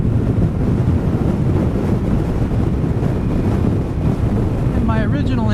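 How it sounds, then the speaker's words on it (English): Strong wind gusts of 35 miles per hour or more buffet the microphone on a sportbike ride in Maui, a loud, continuous roaring rush with a short voice near the end. "Some of these gusts are probably approaching well over 35 miles an hour."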